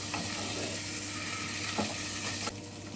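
Boiled potatoes stirred with spices in a pan for potato curry, a steady close sizzle with soft scraping stirs and a brief clatter near the end.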